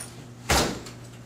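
A door in an ill-fitting frame gives one short, sharp creaking knock as it shifts, then a faint rattle fades against a low indoor hum.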